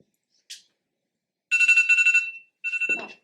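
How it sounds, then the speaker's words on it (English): A timer alarm rings in a classroom during a math lecture: a single short beep, then a sustained electronic ringing burst followed by a second shorter one, loud and clear with no talk over it. "I just set a timer."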